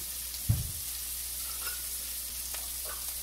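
Cajun-seasoned shrimp frying in a pan with paprika, giving a steady low sizzle throughout, with one brief soft bump near the start and no voices.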